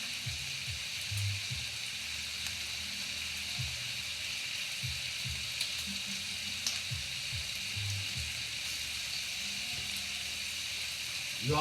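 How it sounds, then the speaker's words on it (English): Bacon frying in a pan gives a steady, close crackling sizzle with irregular pops from the grease, running throughout with no talking. "You also want to be careful when you're flipping the bacon."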